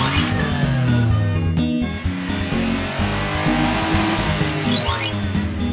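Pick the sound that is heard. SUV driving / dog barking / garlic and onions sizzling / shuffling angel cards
SUV driving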